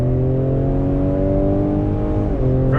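A 2020 Ford Explorer ST engine pulls hard under acceleration, its rising drone steady and loud before a quick gear shift drops the pitch, heard from inside the cabin.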